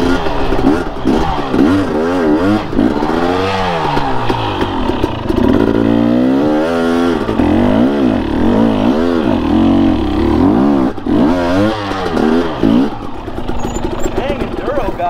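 An enduro motorcycle engine revving hard while climbing a steep trail, loud and close, with repeated rising and falling throttle sweeps that run throughout.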